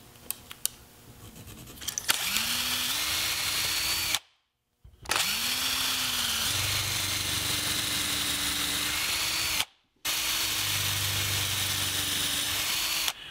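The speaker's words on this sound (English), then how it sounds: "I want to drill the holes for mounting the guitar hanger" A power drill bores mounting holes for a wooden guitar hanger in a workshop, running in several bursts with rising and falling motor pitch, separated by brief pauses, loud and close with no talk.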